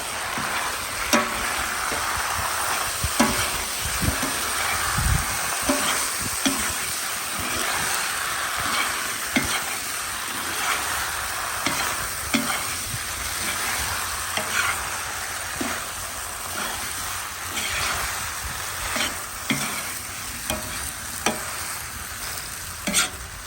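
A spoon scrapes and stirs through goulash sizzling in a cauldron over a campfire, with steady frying hiss and irregular knocks against the metal.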